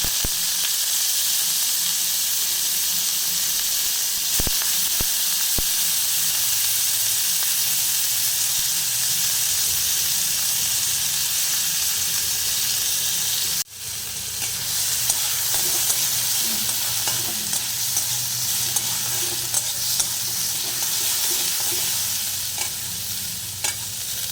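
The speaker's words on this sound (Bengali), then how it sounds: "এবার পেঁয়াজ কুচিগুলো দিয়ে দিচ্ছি।" Chopped onions fry with black cumin seeds in sunflower oil, a loud, continuous sizzling hiss that surges sharply partway through as more goes into the pan, with faint stirring sounds throughout.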